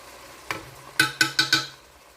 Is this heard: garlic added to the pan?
yes